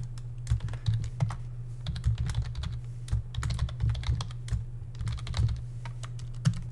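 Rapid, steady typing on a computer keyboard while entering a variable name for a float parameter in Unreal Engine 4's Niagara editor, with close, crisp key clicks and no talking.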